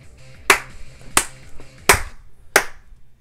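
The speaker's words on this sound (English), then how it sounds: "Let's clap." Four sharp hand claps, evenly spaced about two-thirds of a second apart, crisp and close against a quiet background.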